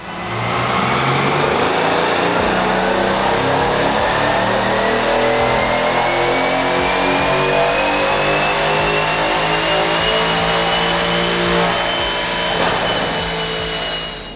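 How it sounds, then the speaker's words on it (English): A Mercedes car engine revs hard on a dyno during a power pull, its loud, sustained roar climbing steadily in pitch through the gears for over ten seconds. "I'm gonna get the car on the dyno so we can get a baseline and see how much power it's putting down right now"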